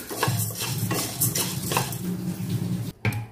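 Sago pearls are stirred and roasted in a pan, with a utensil scraping and clattering steadily against the metal over a soft sizzle and a brief break near the end.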